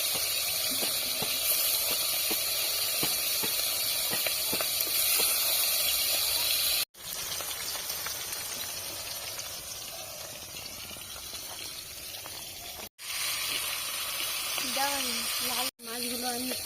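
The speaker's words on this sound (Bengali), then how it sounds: "মাছগুলো আমি হালকা হাতে ভেজে নেব।" Hilsa fish fry in hot oil for biryani with a steady, dense sizzling hiss that runs throughout. A few abrupt cuts break it up, and a voice speaks briefly near the end.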